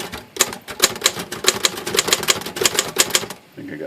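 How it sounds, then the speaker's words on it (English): Rapid keystrokes on a vintage Royal KMG manual typewriter, rebuilt in the 1950s, clack in a fast, close, steady run of sharp strikes that stop abruptly near the end. "Going a little too fast for the typewriter."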